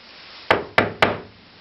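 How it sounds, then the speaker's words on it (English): Three firm knocks on a wooden door, evenly spaced in quick succession, close and clear against a quiet background. "So there was a knock on the door."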